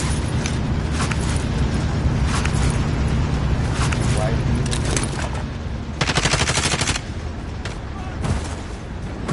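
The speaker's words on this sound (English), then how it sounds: "Receiving hostile fire." Dense gunfire and bursts of automatic weapons in the PS5 video game Warzone, loud and continuous with rapid rattling volleys, mixed under radio-style voice callouts.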